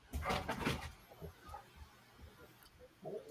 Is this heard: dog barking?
yes